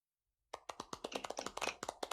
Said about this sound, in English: Thanks for clapping, everybody.